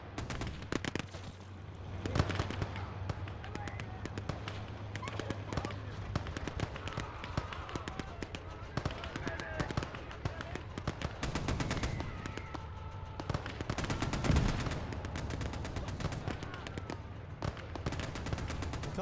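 WWII video game battle in North Africa with dense, continuous gunfire: rapid machine-gun bursts and scattered shots crackle throughout at moderate distance, with occasional louder reports.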